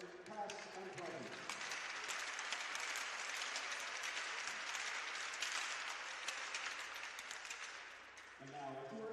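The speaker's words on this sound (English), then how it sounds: "please join me in another round of applause for our men and women warfighters, past and present" Crowd applause at an amateur hockey game, sustained clapping and cheering filling the arena for several seconds, with an announcer's voice heard briefly before and after it.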